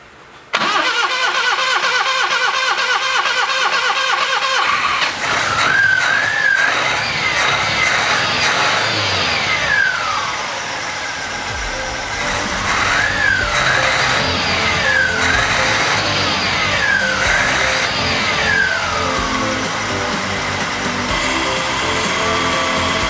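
Subaru Brumby engine fitted with a Weber carburetor cranks and catches, then idles loudly and steadily with some revving, running alone close by without talk.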